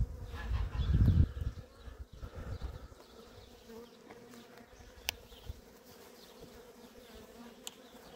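Honey bees buzzing at an opened beehive in spring, a loud close drone in the first seconds as bees pass near, then a fainter steady hum with occasional clicks and knocks.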